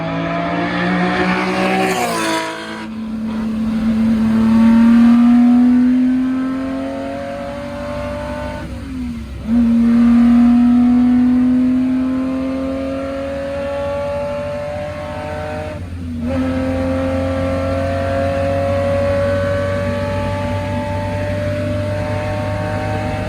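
A Ferrari 250 GTO racing car drives on the road with a loud, close engine. It revs hard, climbs in pitch and drops sharply at each of several gear changes.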